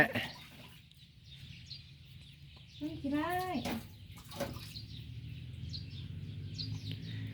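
Water splashing and running while a child is bathed, soft trickles under a voice, with a brief squeal of a child's babble and chirpy sounds in the middle.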